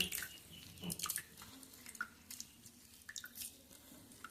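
Juice from blended red spinach drips through a strainer in faint, close, irregular wet drips and trickles, with no talking.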